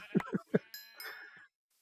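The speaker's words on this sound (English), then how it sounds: "Hello, sheep." A short, synthetic sheep bleat from a video game sounds once near the end, preceded by a few brief spoken syllables; fairly quiet and close, then silence.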